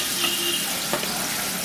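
Potatoes, fried beforehand, sizzling in hot oil with spices while being stirred in a pan for a Bengali rui fish curry. A steady broadband hiss carries through, with a few faint scraping strokes.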